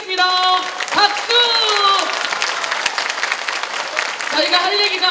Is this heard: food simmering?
no